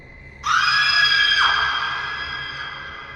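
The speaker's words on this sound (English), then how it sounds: "You hear the scream across the hallway" A single loud, high-pitched scream starts abruptly, holds for about a second, then trails off slowly over a faint low hum.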